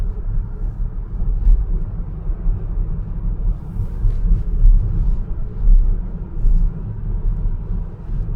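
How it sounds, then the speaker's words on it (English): A VW Multivan's electric motor works hard climbing the Alpine Glaubenbielen Pass, giving a steady, close low rumble of drive and road noise with mild swells and no talk. "It's a bit different because the electric motor is working quite hard."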